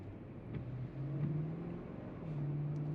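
A Lexus GX460 SUV engine revs and settles repeatedly, a moderate hum rising in pitch, heard from inside the cabin at low volume.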